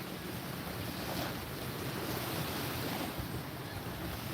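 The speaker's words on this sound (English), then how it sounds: "Can y'all hear the waves?" Ocean surf rolls steadily onto a Panama City Beach shoreline in cold weather, a continuous broadband wash of breaking waves with some wind buffeting the microphone, no voices.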